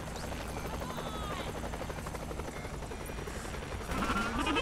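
Helicopter in the video game Saints Row The Third, a steady loud rotor drone filling the whole stretch with game effects layered over it, swelling slightly near the end.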